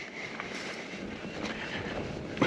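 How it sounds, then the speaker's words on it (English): Strong wind on a mountain biking trail in Arkansas's Blue Mountain Natural Area: a steady, rushing roar with slight gusty swells and faint buffeting. "Very windy, and then you get to these big power line cutouts."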